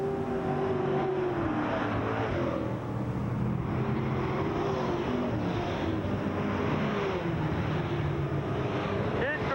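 Race cars circle a short track, their engines droning and shifting in pitch at a distance beneath a commentator's voice, with wind rumble on the microphone.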